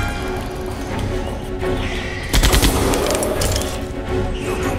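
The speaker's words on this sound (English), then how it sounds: "why are they shooting their mate?" Gunfire in the Jurassic Park video game, a burst of loud overlapping shots cracking through a dense battle mix of background noise and effects, with a sharp cluster of reports near the middle.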